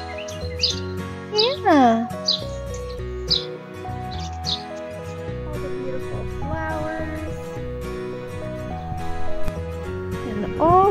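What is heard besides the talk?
birds chirping outdoors in springtime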